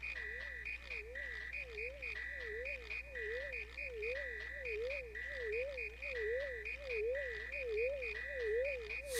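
Frog Fuchsius, a frog sage in the video game Super Mario RPG, gives repeated croaks in a regular, looping rhythm layered over bright chiming game music, alone without any voices.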